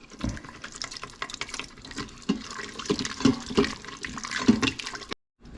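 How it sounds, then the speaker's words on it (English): Beef broth poured into a hot pan gives a steady liquid splashing and sizzling wash over about five seconds, close and fairly loud, cutting off abruptly at the end with no voices. "Put that beef broth in, the temperature went down quite a bit."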